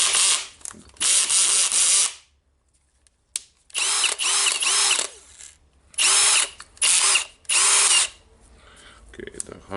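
A Milwaukee M18 BLPD cordless drill runs in screw mode, whirring in several short, loud bursts with brief silent gaps between them, close up.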